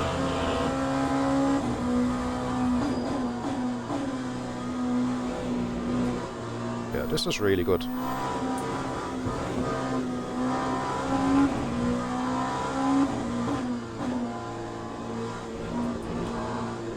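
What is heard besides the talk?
race car engine in Le Mans Ultimate video game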